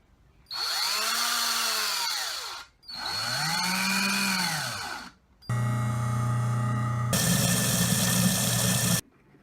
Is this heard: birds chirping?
no